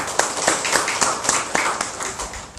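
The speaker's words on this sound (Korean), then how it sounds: "하나님께 영광의 박수를 드리도록 하겠습니다" A church congregation at Sunday worship claps in a loose, spaced rhythm, each distinct clap ringing out in the hall at moderate loudness with no talk over it.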